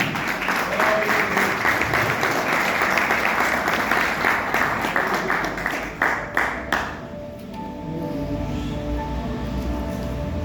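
Applause from a church congregation at an Easter sermon fills the first seven seconds with dense, steady clapping, then falls away to quiet room tone with only faint low sounds.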